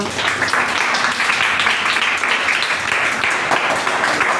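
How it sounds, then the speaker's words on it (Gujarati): Steady, dense applause from schoolchildren clapping together in a classroom, continuous and fairly loud throughout. "તો સરસ મજાની તાળીઓ પાડી દો."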